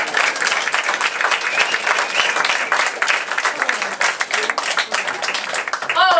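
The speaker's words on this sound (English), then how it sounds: "Let's have a round of applause for the cast and the special guests." A live studio audience gives a loud, dense round of applause for the cast and special guests of a radio show, continuous clapping close and full throughout, tapering slightly at the very end.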